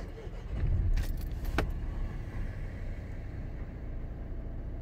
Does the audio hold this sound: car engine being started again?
yes